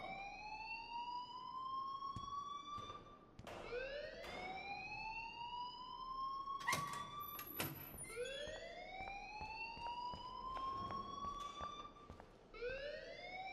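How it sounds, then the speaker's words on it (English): A fire alarm blares in the video game Life is Strange, looping repeated rising electronic wails with bright harmonics, loud and continuous and broken only by short sharp bursts between the sweeps. "please turn off that alarm since that's your job"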